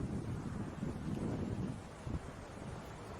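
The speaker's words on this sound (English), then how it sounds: "It's a bit blustery and noisy today, as you can probably hear" Gusty wind buffets the microphone on a city street, a dense, low rumbling roar that surges and eases over a few seconds, with no voices.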